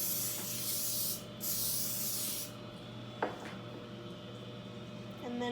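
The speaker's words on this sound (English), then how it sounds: "now we're going to spray our pan" Two bursts of aerosol cooking spray hiss loudly up close, followed by a small clatter and quiet room sounds.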